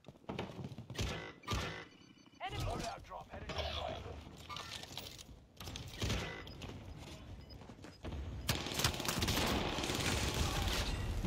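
Rapid LMG and SMG gunfire in a first-person shooter video game, dense bursts and clatter running through most of the stretch, heavier and steadier toward the end, with game effects mixed in.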